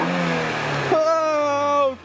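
A Renault Clio engine revs steadily, its tone jumping higher about a second in, then holding before cutting off, with voices talking nearby.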